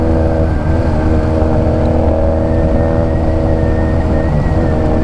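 A Honda Rebel 250 motorcycle is ridden on gravel, its engine droning steadily at a constant pace beneath heavy, loud wind buffeting, with no talk during the ride.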